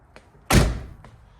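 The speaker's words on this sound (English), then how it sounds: "Close the door with the window up." A Nissan 240SX car door shutting with the window up, one solid close thunk that fades quickly, with faint small clicks before and after.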